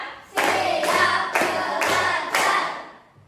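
Children clap together in counted bursts in a classroom, five loud, sharp group claps in a steady rhythm, each a short ragged cluster of hands, close and alone without talk.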